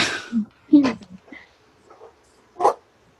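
A guide dog gives a few short barks and whimpering yips, spaced out with quiet gaps between them, close by.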